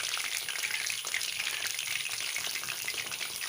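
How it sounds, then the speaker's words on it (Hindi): Dal mash koftas, lentil dumplings, frying in hot oil, giving a steady close sizzle and crackle that runs continuously with no voices. "ऑयल गरम हो चुका है। अब इसमें ये कोफ्ते डाल रहे हैं।"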